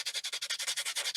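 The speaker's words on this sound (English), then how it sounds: "I take the sandpaper and just give it a quick" Sandpaper rubs over wood in quick, even back-and-forth strokes, about a dozen soft rasping swipes close by.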